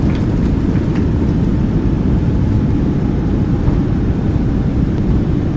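Airliner jet engines in reverse thrust during landing rollout, a loud continuous roar and rumble with no talk.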